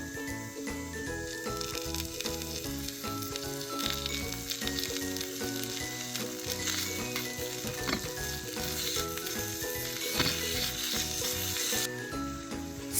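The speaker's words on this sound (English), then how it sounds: "time to fry." Beef steak fajitas fry in a pan with a loud, steady, close-up sizzle, broken by occasional light clinks of stirring throughout.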